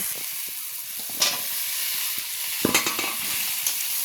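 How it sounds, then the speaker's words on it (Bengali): Fried potato pieces stir-fried with turmeric in a pan for a Bengali koi fish dish, giving a steady broadband sizzle with a few sharp scraping stirs of the spatula, close and continuous. "ভালো করে নাড়াচাড়া করে একটু কষে নেব।"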